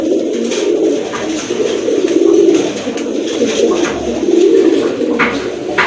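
Several male Gorra pigeons coo in steady, overlapping low rolling calls, close by and fairly loud, with no talking over them.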